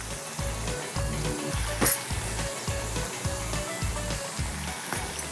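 Onion, crushed garlic and turmeric sizzling in a hot pan: continuous loud frying hiss throughout, with a steady rhythmic clatter underneath, heard close.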